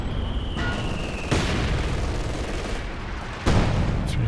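Mortar rounds and a heavy artillery barrage strike Grenadier infantry in Company of Heroes 2, a dense wall of rumbling blasts with sharper impact cracks punching through about a third of the way in and again near the end.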